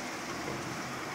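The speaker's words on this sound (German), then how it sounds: "Ja, es regnet." Steady rain falling outdoors during a thunderstorm in Demmin, a continuous close hiss of drops without speech.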